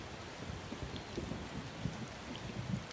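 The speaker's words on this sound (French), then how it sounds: "Ah, il pleut." Steady rainfall in the video game Spore, a soft, even patter of drops running continuously at moderate level with no voices over it.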